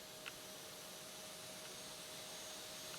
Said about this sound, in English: Listen to the sound of that engine.